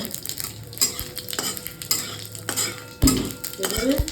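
Whole cumin seeds and dried red chilli fry in mustard oil in a kadai, a soft steady sizzle broken by a few metal scrapes and taps of a spatula stirring close by.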